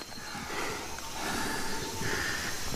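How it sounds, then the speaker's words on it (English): A wild monkey in a tree makes a short, breathy coughing sound, with snort-like huffs repeating over a few seconds against faint outdoor background noise. "Bit of a coughing sound"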